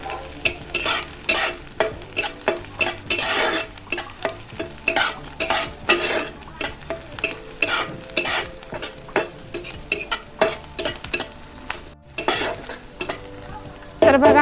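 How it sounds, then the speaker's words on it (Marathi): Green chilies stir-fried with onions in a pan for a wild-vegetable dish, a busy sizzle broken by rapid, repeated scrapes and clinks of a spatula stirring, loud and close throughout. "तर आता ना हिरवी मिरची टाकून घेते हिरवी मिरची पण चांगली परतून घ्यायची"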